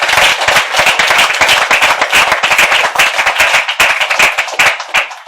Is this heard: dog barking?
no